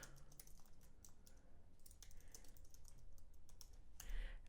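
Quiet, rapid typing on a computer keyboard, with soft, irregular key clicks close by over a low room hum and no voices.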